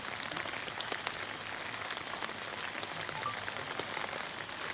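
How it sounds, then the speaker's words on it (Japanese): Heavy rain pouring steadily in a forest at night, a dense, even hiss of drops hitting surfaces with scattered sharper spatters, loud and continuous with no talk. "雨すげえもんね"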